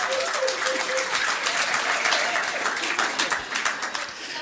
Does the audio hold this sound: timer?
no